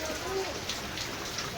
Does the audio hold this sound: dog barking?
no